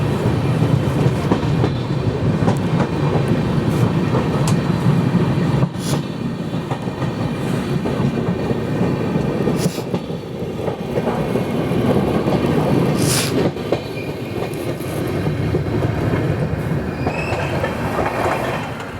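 The Saurashtra Janta Express running on rails between Veraval and Bandra Terminus in Gujarat, heard from onboard as a steady loud rumble with rhythmic clickety-clack of wheels over joints and brief squeals, continuous and close with no talk.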